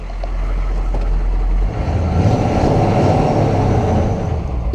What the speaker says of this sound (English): It's belt squealing a little bit